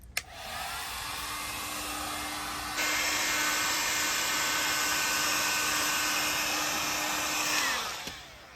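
A hair dryer aimed at scratched plastic trim on a damaged Škoda car, a steady loud whooshing whine that steps up to a higher setting partway through and then cuts off near the end.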